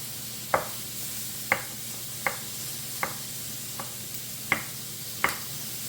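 Pork browns in a pan with a soft steady sizzle, broken by about seven sharp, evenly spaced clicks of a utensil scraping or tapping the pan.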